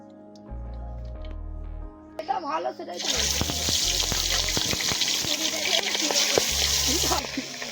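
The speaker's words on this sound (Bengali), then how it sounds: "এবার মাছগুলো ভেজে নেবো পোড়া গরম হয়ে গেছে তেল দিয়ে দিয়েছি" Jiol fish drop into hot oil at an outdoor jungle campsite, and a loud, steady sizzle with spitting crackles erupts a few seconds in. It follows a quieter, tonal stretch and continues strongly to the end.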